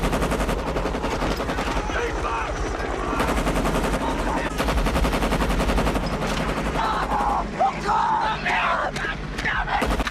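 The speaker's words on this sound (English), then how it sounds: "They're firing at our own people!" Battle gunfire from the 1987 Vietnam War film Hamburger Hill: rapid, rhythmic machine-gun bursts rattle loudly and continuously, with shouting voices faintly mixed into the din.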